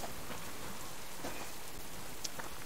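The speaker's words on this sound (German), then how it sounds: "Jetzt regnet's" Rain falling in the survival video game Subsistence, a steady faint hiss of rainfall with a few scattered drop sounds, soft and continuous with no talking.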